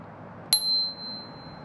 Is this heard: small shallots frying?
no